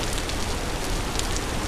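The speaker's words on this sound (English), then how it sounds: "the fact that it's raining right now means it's going to be very hard" Rain falls steadily in the video game Vintage Story, a constant close hiss of drops with no pauses or other sounds.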